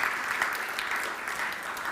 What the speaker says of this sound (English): We can certainly give a round of applause.